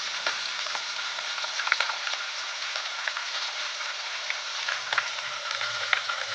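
Katla fish frying in oil in a pan: a steady, dense sizzle and crackle with small pops scattered throughout, close and continuous with no voices.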